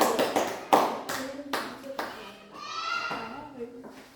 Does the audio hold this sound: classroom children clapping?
yes